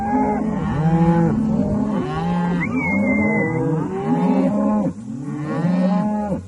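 A cow on a farm moos loudly and repeatedly, calling for her calf: several long, groaning calls come in close succession, with a brief high squeal partway through. No talk is heard.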